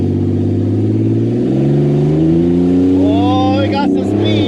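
A family car speeds off from a standing race start, its engine revving and rising steadily in pitch across the whole stretch, loud and close, with people talking over it.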